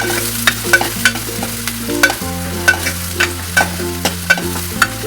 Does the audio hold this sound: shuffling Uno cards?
no